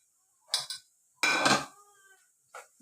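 A spoon stirs spice powders, including turmeric, pepper, coriander, garam masala and chilli, into mutton curry in a metal pot, making a few separate scraping and clinking strokes with quiet gaps between them.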